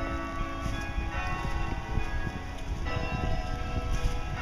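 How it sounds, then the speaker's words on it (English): A church bell in Albany rings continuously, its sustained ringing tones filling the air steadily and fairly loudly, with no talking. "that bell just keeps on going"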